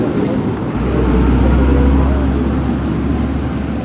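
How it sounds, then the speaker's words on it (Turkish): A truck rumbles past nearby, its deep, steady engine drone swelling and holding loud for several seconds before easing slightly, with broadband road noise over it. "Kamyon sesi beklenmiyordu."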